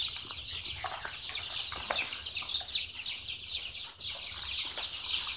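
Soft clucking from a group of ten-day-old chicks drinking water, with scattered wing flaps and chirps over a steady, busy poultry-house background.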